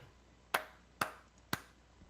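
Three sharp hand claps, evenly spaced about half a second apart, ring out close and clear in a quiet room as a cue during a live show.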